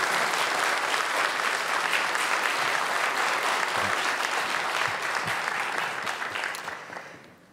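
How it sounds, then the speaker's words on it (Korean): An audience at a Korean jobs event attended by the prime minister claps in dense, sustained applause that holds steady for several seconds, then fades out at the end. "큰 박수 부탁드립니다."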